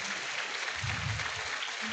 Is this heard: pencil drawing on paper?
no